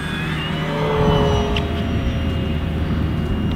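An Arrows Husky 1800mm RC airplane flying over Death Valley, its electric motor making a steady whining drone that shifts pitch slightly as it passes, fairly loud and continuous, with no voices.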